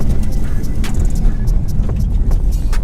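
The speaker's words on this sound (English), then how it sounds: "Afi fully sending that R34 GTR off the line" A tuned 800hp Nissan GT-R R34 launches hard off the line while racing a 900hp Supra, its engine roaring loud and close with a dense, sustained rush of power. Someone speaks over the noise.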